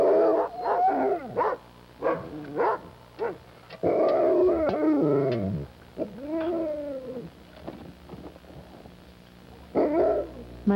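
Sled dogs in a dog yard bark, yip and howl in overlapping bursts, some close and loud, with a longer chorus of howling in the middle.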